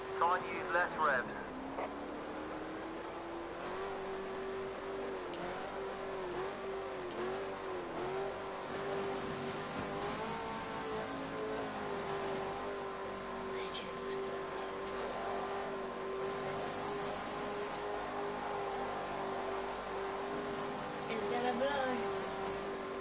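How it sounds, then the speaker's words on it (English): Race car engine in a racing video game revving under strain as it runs hot with engine damage, a steady droning whine held throughout beneath a voice talking. "Okay, your engine's getting too hot. Try and use less revs."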